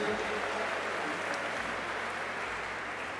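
Steady, faint wash of crowd applause at a cesta punta Grand Slam final of the Internationaux de Cesta Punta, continuous and distant throughout without distinct individual claps.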